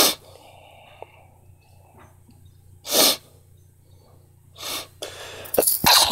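Two sharp, loud human sneezes a couple of seconds apart over a low hum from a Pokémon game, followed by breathy noises.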